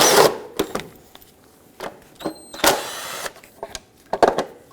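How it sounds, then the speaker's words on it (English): Metal clicks and ratcheting taps from an 8mm socket backing out timing cover screws on a 1997-2006 Jeep Wrangler 2.4L, heard as scattered short bursts with brief pauses between them, close and moderately loud, with no talking. "With an 8mm socket, let's remove the forward-facing timing cover."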